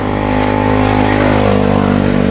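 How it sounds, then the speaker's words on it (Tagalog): A concrete cutter runs as its blade sinks into concrete, a loud, steady, close engine drone with a strong hum that holds constant throughout and no voices. "yung proper paggamit po ng concrete cutter"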